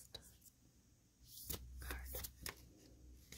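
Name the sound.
shuffling cards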